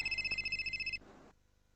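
A telephone rings with a steady electronic trill for about a second, then stops, leaving a brief soft tail before quiet; the sound is faint and heard alone.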